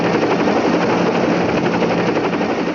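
A military attack helicopter flies close by, its dense rotor and engine roar loud and steady throughout with no pauses.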